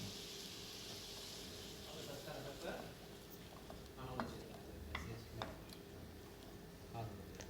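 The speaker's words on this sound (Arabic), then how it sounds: "نفضل نقلبه كده لحد ما ريحته تطلع" A garlic clove is stirred in a pan, soft sizzling under a low steady hum with scattered light scrapes and taps of the utensil, faint and close.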